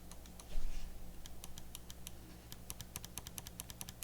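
Triggers on a Razer Wolverine V3 Pro controller set to trigger mode snap with crisp, mouse-like clicks, coming in quick irregular runs of sharp taps close to the mic.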